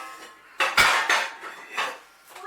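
Small bowl and dishes clattering as they are handled in a home kitchen during trifle preparation, several close, bright knocks and scrapes of crockery over about two seconds with no talking.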